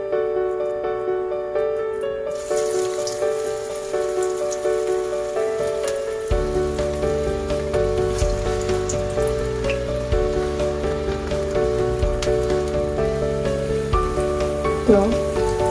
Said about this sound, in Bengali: এখানে আমার তেল গরম হয়ে গেছে। এখন আমি আস্তে আস্তে পাকোড়াগুলো ভেজে নেব।